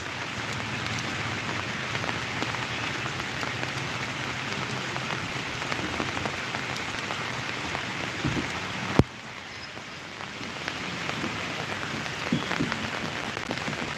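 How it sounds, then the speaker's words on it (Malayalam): Steady, dense monsoon rain pattering on surfaces beside a swollen river in Kerala, continuous and fairly even, with a brief sharp knock partway through and a slight drop in intensity afterward. "മഴ തുടർന്നു കൊണ്ടേയിരിക്കുന്നു"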